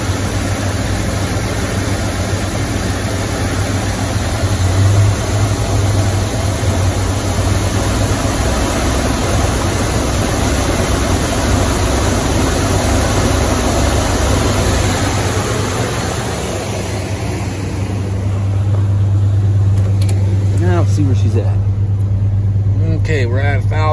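A car engine fitted with a Quadrajet carburetor idles at about 800 RPM on a cold day, a steady low rumble holding evenly throughout, with brief voices near the end.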